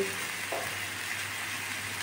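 Chopped potatoes fry in a pan with salt and turmeric, giving a soft, steady sizzle heard faintly and close, with no talking.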